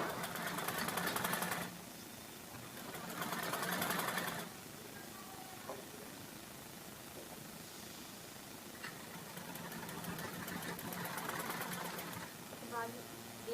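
A sewing machine stitches a simple blouse in several whirring runs of a couple of seconds each, separated by quieter pauses with small handling clicks, while someone speaks.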